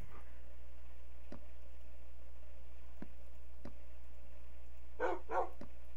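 Minecraft wolves give two quick yapping barks near the end, brief and fairly close, over a steady low hum and a few sharp ticking clicks.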